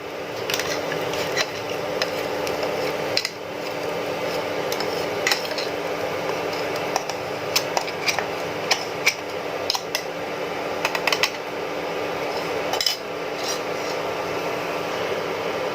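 A spoon scrapes and stirs a coconut and chana dal filling in ghee in a pan, making a steady, close, gritty rasp with soft metallic clinks and no talking.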